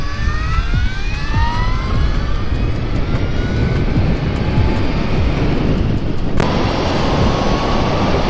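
A Brammo Empulse R electric motorcycle with a gearbox accelerating hard, rising whining motor tones climbing in pitch over loud wind rush, then a shift and a fresh climb, with no talk.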